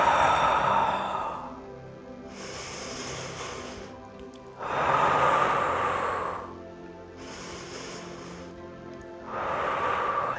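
Slow, deep yoga breaths during a full-moon practice, with long audible exhales and softer inhales alternating in a steady rhythm over about ten seconds, close and clear with no talking.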